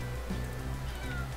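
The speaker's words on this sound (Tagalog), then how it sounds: "May pusa dito sa kwarto ko." A cat meows inside a bedroom, a brief, faint call partly buried in steady background noise.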